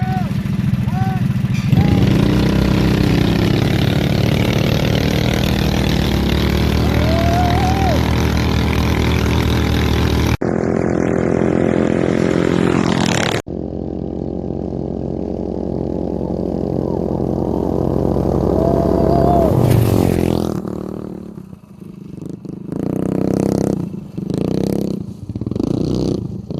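Small racing engines, a 420cc Predator against a Tillotson 212cc, roar loud and close with steady droning revs through a race start, then cut out abruptly and sputter in bursts toward the end.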